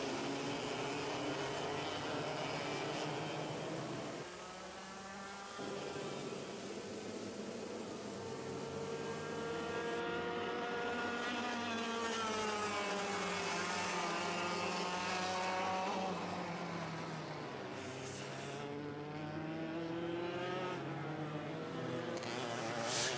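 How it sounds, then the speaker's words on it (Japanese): Racing machine engines at a winter cup race during a rolling lap with a push start: a continuous droning engine whine rising and falling in pitch, heard from a distance and fairly faint, with no speech. "さあ木村のマシン押し掛けをしていきます。"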